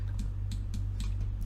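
A single Enter key pressed on a computer keyboard, with a few crisp near clicks of keys over a steady low electrical hum.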